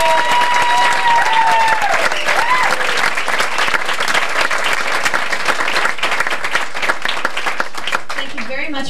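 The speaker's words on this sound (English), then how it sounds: "I think Scott deserves another round of applause." A theatre cabaret audience at Surflight Theatre breaks into loud, sustained applause, a dense wash of clapping hands that stays steady throughout with a brief voice and tonal sound near the start.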